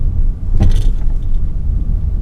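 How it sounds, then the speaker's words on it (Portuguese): A Peugeot 2008 Allure Pack rolls over a speed bump at about 30 km/h, giving one soft thump from the suspension over a low, steady engine and road rumble. "Vamos agora para a lombada, aqui a 30 por hora, vamos ver como é que o carro se sai."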